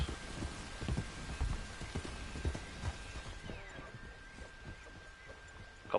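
Steady rain falls in Red Dead Online, a continuous hiss of drops with soft low patter and occasional heavier thuds, moderately loud and even throughout, with no voices.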